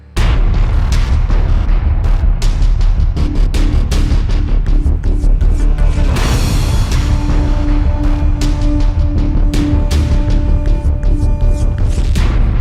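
A rocket lifts off with 2.2 million pounds of thrust, a dense, loud, unbroken roar full of crackling bursts and rumbling pops that fills the whole stretch.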